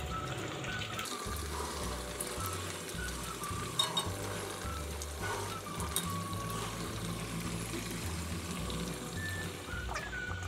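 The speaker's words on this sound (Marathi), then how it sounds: "आपण वडे तळण्यासाठी शेंगदाण्याचं तेल घेतलेलं आहे" Sabudana vada frying in peanut oil over a low flame, a continuous fine crackling sizzle holding steady and fairly quiet throughout, with no talk.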